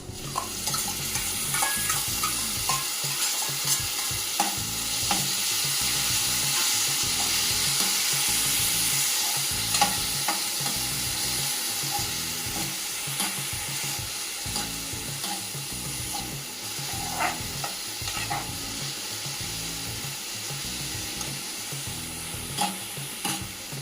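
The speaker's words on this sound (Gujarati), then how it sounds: "ઝીણી ચોપ કરેલી ડુંગળી સર નાખીશું" Finely chopped onion sizzles steadily in hot oil with ginger and garlic in a pan for stuffed bitter gourd curry, with frequent scraping stirs and light clinks of a spoon throughout, close and continuous.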